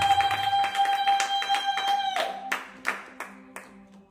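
A Pentecostal church congregation claps steadily in rhythm over sustained keyboard tones, the claps growing sparser and more spread out as the music fades.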